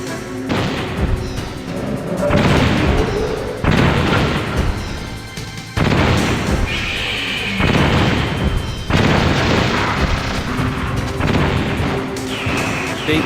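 Missiles burst in a string of heavy booming explosions in the video game Metal Gear Solid, each blast loud and close with crackling debris trailing off before the next one hits.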